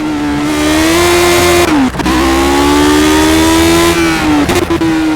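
The Lotus 72 race car's engine screams at high revs in the racing game Project Cars, holding a loud steady wail with two brief dips at gear changes before climbing again.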